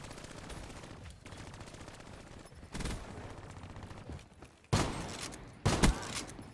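Automatic gunfire in the video game Call of Duty Black Ops 3, with continuous rapid shots and several louder bursts, close and dense throughout.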